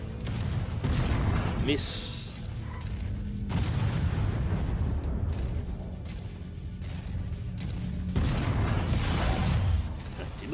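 Heavy autocannon fire from a giant mech in Mechwarrior 5: Mercenaries, booming shots repeating across the battle under a constant roar of combat noise, with someone talking over it.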